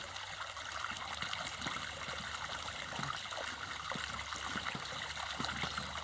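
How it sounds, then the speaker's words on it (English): Silty water trickles and splashes steadily from a blocked bypass pipe outlet, a continuous watery wash with small irregular drips and gurgles, fairly close, with no voices. "look at the water coming out of there"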